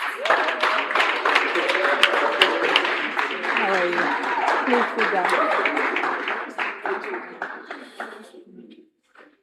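Studio audience applause welcoming a guest to an interview stage, dense steady clapping that thins out toward the end, with a voice greeting the guest over it.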